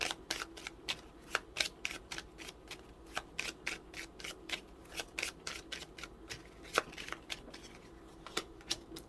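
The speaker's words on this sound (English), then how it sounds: "So I'm just going to shuffle" Lenormand cards being shuffled: repeated quick riffling and sliding bursts, close to the microphone, in an irregular rhythm with short pauses between.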